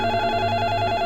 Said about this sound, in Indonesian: tiba-tiba telepon berdering